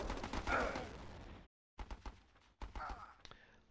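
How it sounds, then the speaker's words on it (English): Machine gun fire in a video game, bursts of rapid shots split by a brief silence, then more short bursts at moderate loudness. "MG searching for targets."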